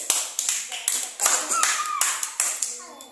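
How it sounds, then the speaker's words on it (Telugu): Children clap hands together in an anganwadi rhyme class, a series of sharp, fairly steady claps repeating about every third of a second, loud and close, with children's voices chattering in the background. "క్లాప్స్ కట్టాలి."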